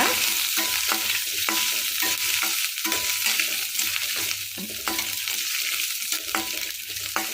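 Lentils and dried red chillies roasting in a pan for a Perkankai thuvaiyal chutney, with a steady sizzle and repeated scraping stirs of a spoon, close and moderately loud, no talking.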